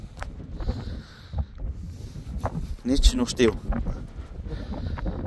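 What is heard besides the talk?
strong wind blowing on phone microphone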